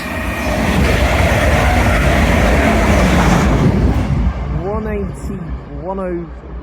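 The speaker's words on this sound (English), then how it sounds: "Pass through now is Grand Central Adelante from Sunderland to London King's Cross." A Grand Central Adelante train from Sunderland to London King's Cross passes through Doncaster station as a loud, close rushing rumble that fades over the final seconds. Brief whistling tones sound as it recedes.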